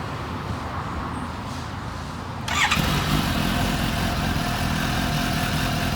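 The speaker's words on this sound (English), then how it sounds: "let's see how the stock exhaust sounds" A Suzuki GSX-S750Z motorcycle engine with its stock exhaust starts up partway through and settles into a quiet, steady idle close by.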